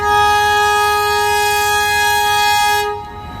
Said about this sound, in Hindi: ये वही शाह लतीफ़ एक्सप्रेस है जो अभी पहुंच गया यहाँ पर